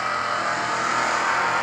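Drag racing cars, among them a 1969 Camaro, roar steadily at a strip with a loud continuous engine drone and no pauses, heard alone without talk.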